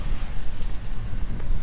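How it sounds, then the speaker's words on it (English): Wind blows at night outdoors near a dumpster, buffeting the microphone in uneven, rumbling gusts for a short moment, with no speech over it. "Now the wind's blowing."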